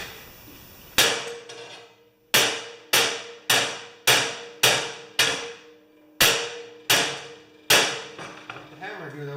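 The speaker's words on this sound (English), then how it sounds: "Let the hammer do the work." Sharp metallic hammer blows strike a metal rivet on a Sno-Trac snowblower belt, about ten strikes in an uneven rhythm, each with a short ringing decay.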